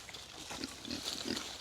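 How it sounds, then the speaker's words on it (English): Pigs eat acorns nearby, giving soft repeated grunts and snuffling oinks in short bursts, fairly faint and close. "Come on, pigs."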